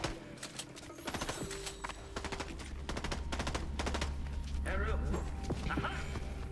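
A grenade launcher in Fortnite lets off a cluster of sharp, repeated blasts mixed with clicks and other game effects, fairly close and loud, with a voice talking over parts of it.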